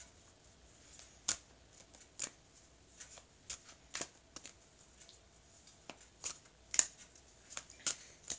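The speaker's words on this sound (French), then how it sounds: "Alors, je vais couper le jeu," A deck of tarot cards is shuffled and cut, with sharp crisp riffles and slaps arriving in irregular bursts, close and clear against a quiet background.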